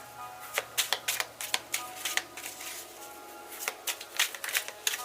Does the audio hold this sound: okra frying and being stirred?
no